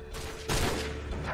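Gunfire from the Call of Duty 4: Modern Warfare video game bursts in as a dense, sustained rattle that starts quieter and jumps louder halfway through, filling the short moment without speech.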